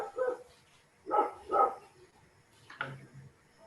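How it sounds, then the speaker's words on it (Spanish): A dog barks about four times in separate bursts, moderately close, under quiet background noise, with no talk over the barks. "No sé si callar ese perro."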